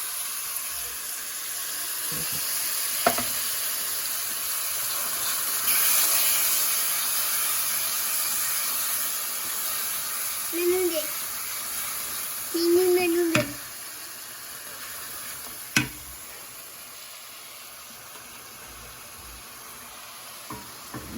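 Ground spice masala with turmeric sizzles in a hot pan, a soft steady hiss with occasional scraping stir clicks and brief louder crackles partway through, no voices.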